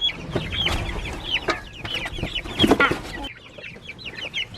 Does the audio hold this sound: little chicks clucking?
yes